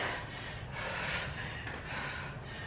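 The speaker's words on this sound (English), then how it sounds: "I'm just listening to how heavy I'm breathing" Heavy, rhythmic breathing during a boot camp HIIT workout, with loud, close breaths in slow, repeated surges over a constant rushing background.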